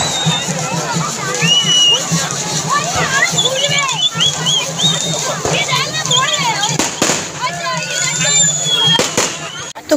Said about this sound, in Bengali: বাজি ফুটছে, খুব আওয়াজ হচ্ছে